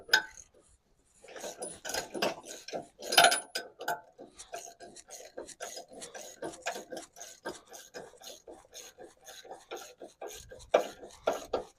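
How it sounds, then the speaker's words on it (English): Ratchet and wrench working a bolt in a cramped spot on a Komplet Kompatto 124 crusher: a long run of quick, dense metallic rasping clicks and scrapes, close and steady, with short pauses. "For over here, I generally use just a ratchet and a wrench just because it's a tight spot."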